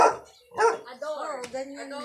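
A dog barking in a yard at a piggery in Indang, Cavite: a few sharp barks and yips followed by a whining, drawn-out vocalization, close by, with people talking alongside.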